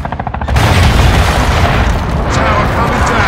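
Massive explosion as a tower blows apart and collapses in the Call of Duty Modern Warfare II game, a loud booming blast followed by a sustained roaring rumble of crashing debris, with voices mixed underneath.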